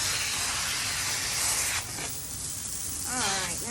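Dishwasher parts being cleaned with a spray give off a loud, continuous hiss that dips briefly partway through and then resumes, while a voice talks faintly over it near the end.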